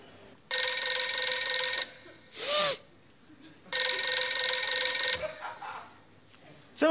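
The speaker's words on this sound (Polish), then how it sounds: "Czemu pan nie odbiera? Telefon dzwoni." An old-fashioned telephone bell rings loudly in two long bursts separated by a pause, with voices speaking briefly between and after the rings.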